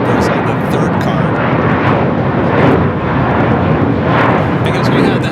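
A jet airliner roars down runway 25 right on its takeoff run at Los Angeles International Airport, a loud, broad, continuous engine rumble with a rough, surging texture, heard close and dominating throughout.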